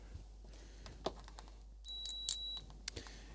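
A multimeter's continuity beep sounds steadily for under a second amid quiet clicks and handling noise from small equipment.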